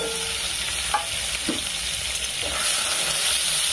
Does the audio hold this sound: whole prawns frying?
yes